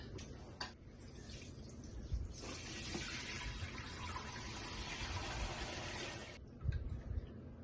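Hot rendered lard is poured through a filter, giving a soft liquid splashing and trickling that swells for several seconds and then thins out, with faint handling knocks.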